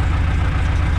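A farm machine engine running during a wheat harvest break: a loud, steady, close mechanical drone with low rumbling throb and broad noise, continuous and unbroken throughout.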